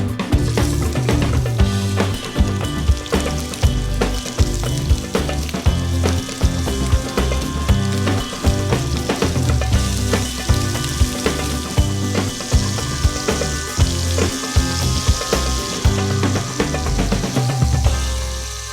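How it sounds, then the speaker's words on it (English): Meatballs (albondigas) browning in hot oil in a pan, a dense, loud sizzle with rhythmic pulses throughout, mixed with a bright musical background. "I can lay in these meatballs and then turn them until they're browned evenly on all sides."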